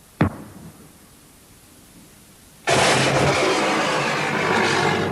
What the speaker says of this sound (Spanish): Esta explosión, al contrario que la de un proyectil, no es un impacto.